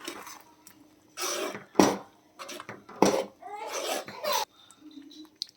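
Dalcha, a lentil dish seasoned with dalcha masala, salt, jaggery, tamarind water and coriander, being stirred in a pot: repeated scraping and clinking bursts of utensil against metal, fairly close, with brief quieter gaps between strokes.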